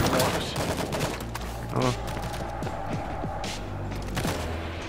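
Rapid gunfire in the video game World War Z: Aftermath, Jerusalem episode, with dense volleys and a booming shot amid chaotic combat noise while players talk.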